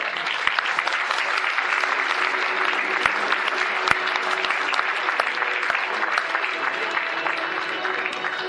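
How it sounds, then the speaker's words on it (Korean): Sustained audience applause fills the hall at a 50th-anniversary broadcasting career celebration as a guest is welcomed, a dense, steady wash of many hands clapping with a few sharper claps standing out, no voices over it. "김동길 박사님을 여러분 큰 박수로 맞주시기 바랍니다."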